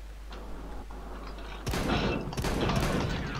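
Shotgun blasts in Counter-Strike: Global Offensive, a sudden loud burst of gunfire breaking in after quiet game ambience, followed by further sharp reports close together.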